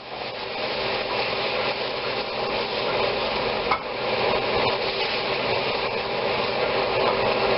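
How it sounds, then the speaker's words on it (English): Beef stock poured into a hot pan while making steak au poivre, giving a steady, dense sizzle and bubbling with continuous stirring, loud and close throughout. "Now we add the beef stock."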